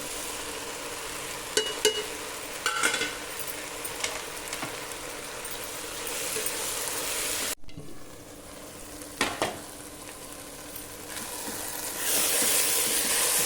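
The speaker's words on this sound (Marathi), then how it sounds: "पाच मिनटं बारीक गॅस करून शिजवून घ्या." A potato and cabbage mixture with spices cooks in a pan on low gas, a steady close sizzle broken by spoon stirs and scrapes, with a brief dip midway.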